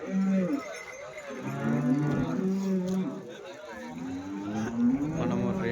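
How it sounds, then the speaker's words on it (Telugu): Cows at the Sunday cattle market in Chintamani moo in long, drawn-out calls, several overlapping lows close by against a busy market hum. "ఈ వారం ఎలాంటి ఆవులు వచ్చాయి అనేది"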